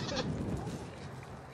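A dairy show goat bleats close by in a barn, one short wavering call near the start that fades into low farmyard noise, with no talking.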